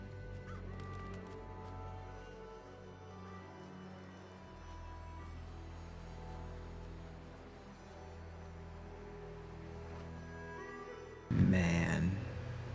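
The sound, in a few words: crows cawing in video game Fallout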